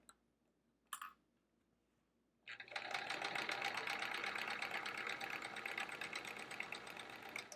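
Sewing machine free motion quilting a bulky chevron quilt, starting after a couple of faint clicks and then running continuously with a close, dense, rapid stitching hum.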